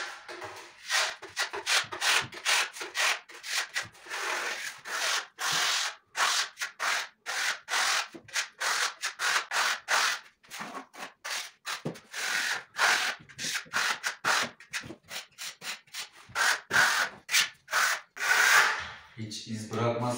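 Steel trowel drawing a very thin coat of plaster across a kitchen wall between the counter and cabinets in preparation for marble-effect plaster, making continuous rhythmic scraping strokes close up with no talking.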